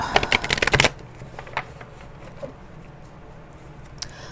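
A deck of oracle cards is shuffled in a quick, close riffling burst of crisp flutters lasting about a second, followed by quiet handling with a few light taps and soft rustles.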